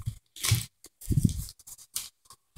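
Packaging for an Elgato game capture box, already cut open, is pulled apart in a bathroom with several close crinkling, tearing rustles in short bursts.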